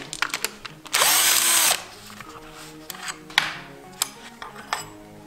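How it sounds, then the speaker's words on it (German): Power tool with a 13 mm socket unscrewing bolts on a BMW M50 engine during cylinder head removal: one loud whirring burst lasting nearly a second, surrounded by close metallic clinks and taps of tools and parts. "Dazu schraubt man die beiden Schrauben mit einer 13er Nuss raus."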